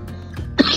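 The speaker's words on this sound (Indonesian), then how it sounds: "maaf batuk ini ya" A single short, raspy cough near the end, close to the listener, following a brief moment of low background hum.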